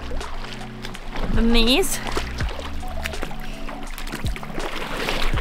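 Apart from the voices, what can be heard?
river water running during off-road vehicle crossing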